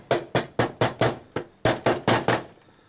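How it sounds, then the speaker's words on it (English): Pieces of a DIY weather machine case, machined from 3mm stock, are hammered together in a dry fit: about ten sharp, close, loud blows in a steady rhythm, with a brief pause midway, then a quiet ringing tail. "if you actually hammer these pieces in"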